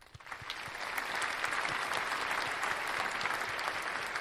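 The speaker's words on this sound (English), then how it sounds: "we'd like to give you guys a round of applause" A round of applause for the audience of a radio show, steady crowded clapping that swells quickly and holds, heard fairly faint and without talk.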